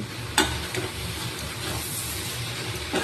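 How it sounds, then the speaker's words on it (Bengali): Ghugni of peas with garlic sizzles steadily while being sautéed in a pan, with a couple of sharp scrapes or clinks of the spoon against the metal. "এর মধ্যে অল্প অল্প জল দেবো আর ভালো করে কষিয়ে নেবো"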